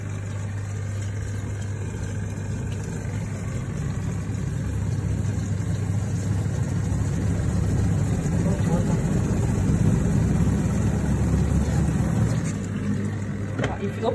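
A Hisense twin tub semi-automatic washing machine runs its spin cycle with a steady low hum and rumbling drone that holds level throughout, close by and continuous.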